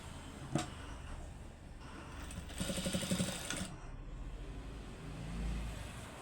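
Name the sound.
sewing machine stitching a blouse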